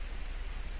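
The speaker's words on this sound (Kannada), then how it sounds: "ಜೋರ್ ಮಳೆ ಅಲ್ಲ ರೀ ಈ ಕಡೆನೆ ಹಂಗ." Light rain falling outdoors, a soft, even hiss of steady drops with no talk over it.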